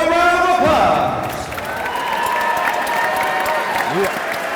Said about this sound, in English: let's give these two fighters one more round of applause